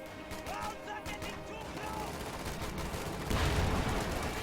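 Gunfire from a World War II strategy battle in Company of Heroes 2, including an infantry support gun, rattles continuously through a noisy skirmish, swelling louder toward the end with faint talk beneath.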